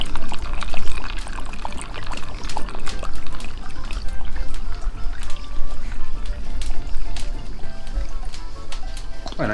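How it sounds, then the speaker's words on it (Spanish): Fernet is poured into a jug for drinks at an Argentine asado, a loud, close continuous splashing pour of liquid running for several seconds, with outdoor background noise and no talk over it. "se tira Fernet para todos lados ahí"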